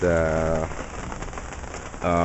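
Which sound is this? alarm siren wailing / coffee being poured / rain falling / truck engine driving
rain falling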